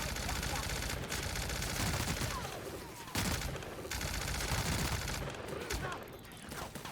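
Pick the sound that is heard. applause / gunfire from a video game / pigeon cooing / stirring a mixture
gunfire from a video game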